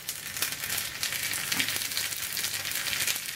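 Mustard seeds spluttering in hot sesame oil in a pan, a steady close sizzle with small crackling pops throughout.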